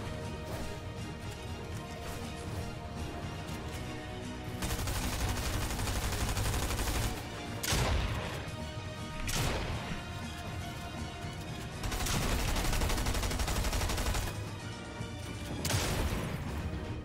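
Stinger SMG fire in a Fortnite-style shooter game, repeated bursts of rapid gunfire punctuated by sharp cracks and impacts, loud and dense throughout over a steady game-sound bed.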